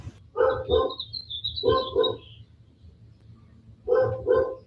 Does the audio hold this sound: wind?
no